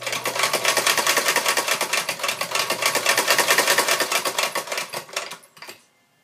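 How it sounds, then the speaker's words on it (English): A sewing machine stitching a corset seam runs in a fast, steady mechanical clatter for about five seconds, then slows and stops, close and loud with no talking. "So I'm going to finish sewing all the way down."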